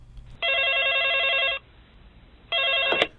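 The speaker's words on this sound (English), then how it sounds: "the phone rings and your friends hear this" A telephone bell rings in two bursts, a long electronic trill followed by a pause and a shorter second ring, loud and close with no talking.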